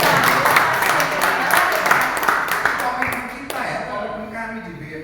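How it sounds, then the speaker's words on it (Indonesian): Audience clapping at an internship closing ceremony, a dense steady patter of many hands that holds at full strength, then thins and tapers off toward the end. "jadi tepuk tangan dong"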